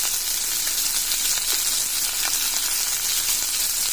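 Curry leaves hit hot oil in a pan after onions, giving a loud, steady, close sizzle that runs unbroken throughout with no talking.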